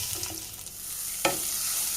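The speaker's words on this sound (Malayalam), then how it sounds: "ഇനി നമുക്ക് ഇതൊന്ന് മിക്സ് ചെയ്ത് കൊടുക്കാം" Crushed coconut is stirred in a pan for a thoran over a soft continuous sizzle, with a few light scrapes and one sharper clink of the spoon midway.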